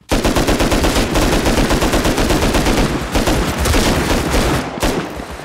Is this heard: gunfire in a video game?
yes